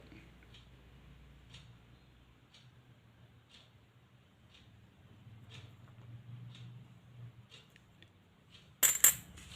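Commemorative coins from the Hyderabad mint handled in a quiet room, giving faint, evenly spaced metallic clicks and taps, then one short, louder clatter near the end.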